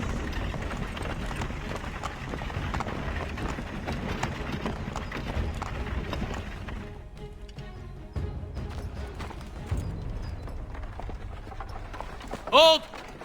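Horse hooves galloping in the game Assassin's Creed 3, a steady rapid clatter of running hooves over ambient game noise, easing off partway through, with a brief sharp effect near the end.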